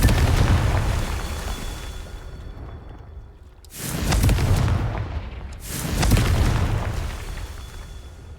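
Confringo fire spell explosions from a video game: three loud booming blasts with rumbling low-end roars, the first fading into near silence before two more heavy bursts follow in quick succession.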